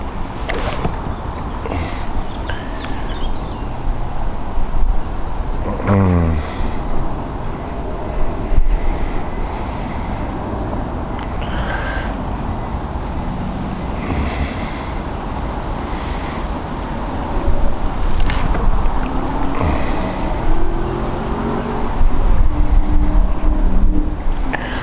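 Gusting wind buffets the microphone at a tench fishing lake at Jubilee Pools, a constant rough rumble and roar that swells louder toward the end, with no voices.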